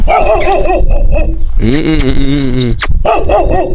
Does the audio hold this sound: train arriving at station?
no